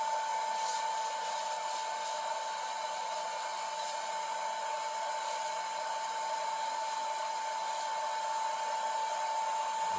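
Heat gun running on its low setting, held back from the work while shrinking material for wood grain dash and door trim on a Triumph Spitfire; a steady, even airy whoosh with a faint high whine, continuous throughout.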